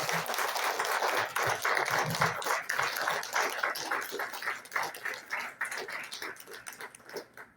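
A church congregation at a Sunday service claps in a dense, rippling round of applause that gradually thins out and softens toward the end.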